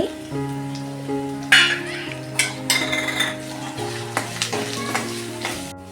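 Red chilli masala, turmeric, coriander powder and cumin powder fry in a pan with tomato, a crackling sizzle with a few stirring clatters, accompanied by steady tonal background music.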